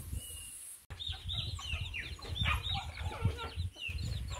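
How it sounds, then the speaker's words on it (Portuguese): Hens cluck and chatter on a perch inside a small rural henhouse, with a busy cluster of overlapping short calls, close and moderately loud, after a brief sharp knock near the start. "essas galinhas aqui no poleiro faz uma sujeira"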